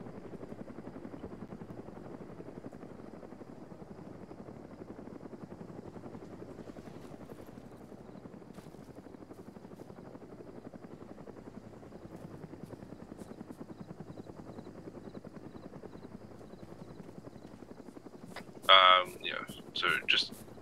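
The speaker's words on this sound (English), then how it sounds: "Hear a second helicopter flying by." A helicopter flies by in the Arma 3 military shooter, a steady distant rotor drone running throughout, with a short burst of sharper clicks and noise near the end.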